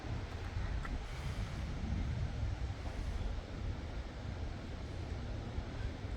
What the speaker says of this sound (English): As you can see how windy it is.